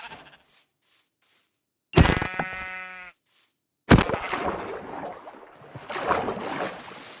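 Two short synthetic sheep bleats ring out a couple of seconds apart in a survival video game, followed by a burst of noisy game sounds.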